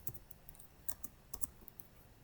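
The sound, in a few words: typing a book title on a computer keyboard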